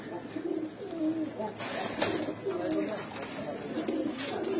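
A male yellow Muslodom pigeon with an all-white tail coos in repeated soft rolling phrases, close by, with rustling and clatter from a pigeon market around it.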